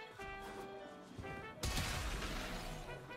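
Incarnon Strun Prime shotgun firing in Warframe: one sudden, heavy blast partway through, cutting over ringing in-game tones and effects and then washing out into a broad, noisy tail.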